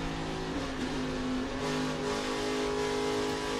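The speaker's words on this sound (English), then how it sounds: "You hear LeVar pedaling the throttle" ARCA Menards Series race car engine at Kansas Speedway droning loudly and steadily as the driver pedals the throttle, with a slight rise and fall in pitch.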